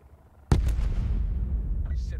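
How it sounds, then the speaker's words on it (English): A helicopter crashes in Call of Duty Black Ops 4 on Xbox One: a sudden heavy boom after a quiet moment, followed by a loud sustained rumble and debris noise. "Helicopter just crashed."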